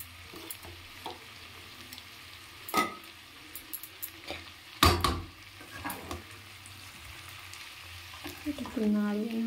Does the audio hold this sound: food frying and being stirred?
yes